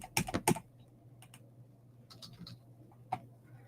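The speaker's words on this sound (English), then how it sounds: "Excuse me, I'm typing." Rapid bursts of keystrokes on a computer keyboard, a quick cluster of clicks at the start followed by sparser, softer taps over a steady low hum, close and fairly quiet.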